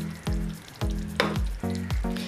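Chicken stew simmers in a pot after thick first-extract coconut milk goes in, Kerala style, with a spoon scraping through in steady, repeated strokes over a soft, constant bubbling sizzle.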